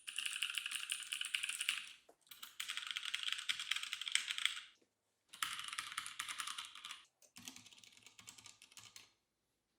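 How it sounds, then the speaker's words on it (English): Quiet, muffled typing on a Leopold FC750R mechanical keyboard fitted with Cherry MX silent switches, coming in four bursts of rapid keystrokes separated by short pauses, soft and close. "this is one of the main reasons why I bought this mechanical keyboard with Cherry MX silent switches."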